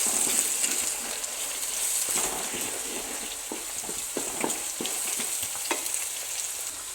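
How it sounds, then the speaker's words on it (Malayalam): Egg frying in a pan for fried rice is stirred steadily, a close, continuous sizzle broken by repeated scraping strokes, with no talking. "എഗ്ഗ് നന്നായി വേവട്ടെ ഇളക്കി കൊടുക്കാം"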